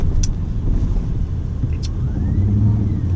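Supercharged 700-horsepower Shelby F150 Tonka Edition pickup truck engine running steadily loud and close, a low continuous rumble with a slight rise near the end and brief high clicks over it.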